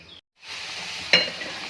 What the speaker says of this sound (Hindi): सब्ज़ मिर्ची और अदरक डाल के मैंने इसको थोड़ी देर के लिए दम दे दिया है